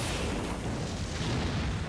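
A meteor attack slams down in Bleach: Brave Souls as a loud, dense, roaring burst of explosive noise that fills the whole two seconds without letup.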